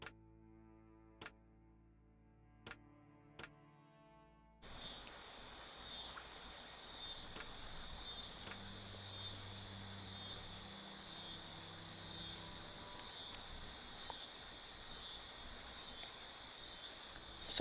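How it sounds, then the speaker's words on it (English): Cicadas drone outside a window in a loud, steady, pulsing buzz that starts abruptly after a few seconds of near quiet with sparse clicks, then holds continuously to the end with no talk. "So sorry if you can hear the cicadas screaming outside my window."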